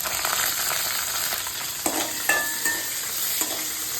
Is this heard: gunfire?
no